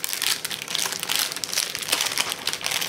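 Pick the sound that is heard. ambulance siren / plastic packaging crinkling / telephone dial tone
plastic packaging crinkling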